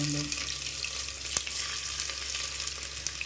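Onions fry in oil for a vegetable biryani, giving a steady close sizzle with a faint clatter, moderately quiet and continuous throughout.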